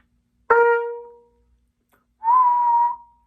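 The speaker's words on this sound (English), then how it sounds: "What better way to do that naturally than to whistle?" Two whistled notes practise airspeed for brass lip slurs: a short, bright whistle that fades, a pause, then a steadier, slightly breathier held whistle, close and clear with no talking.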